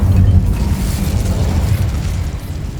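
A fire-spell blast in the game Hogwarts Legacy roars as a loud, sustained rumbling whoosh of flame that fills the whole moment without any pause.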